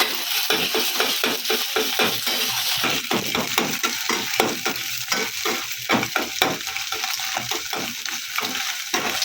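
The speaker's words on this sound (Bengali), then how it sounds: "এইভাবে আমি ডিমটাকে ভেজে নেব" An egg fries in oil in a pan for mixed restaurant-style fried rice, a steady close sizzle broken by repeated scraping strokes of a spatula in a quick uneven rhythm, with no talk.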